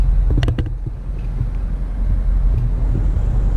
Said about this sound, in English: That is an exhaust clip.